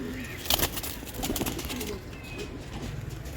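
A pigeon coos softly nearby in short rounded notes, with a brief flutter of wings and light background noise.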